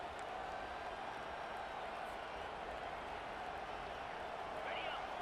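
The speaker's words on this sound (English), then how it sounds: "This crowd trying to make life miserable for this offense." Steady stadium crowd roar from a college football video game, Bulldogs versus Tide, a dense continuous wash of voices held at an even level throughout with no clear peaks.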